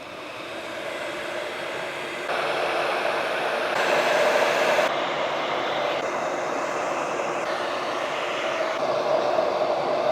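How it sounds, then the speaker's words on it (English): Vitomin FlashSpeed 1500 heat gun running on a carbon fiber roof of a BMW E92 M3, a steady close airy fan roar with a faint whine, shifting in level in a few distinct steps. "Now heat guns, as you guys know, take up a ton of power, but the Vitomin FlashSpeed 1500 has more than enough."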